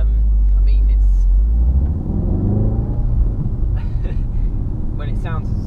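A Volkswagen Mk7 Golf R engine drones with a deep, steady rumble from inside the cabin while someone talks throughout.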